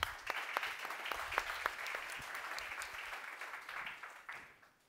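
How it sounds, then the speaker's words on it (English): Audience at a corporate seminar applauding a speaker taking the floor, a moderately sized crowd clapping with distinct individual claps audible, steady for several seconds then tapering off toward the end. "and give him an applaud."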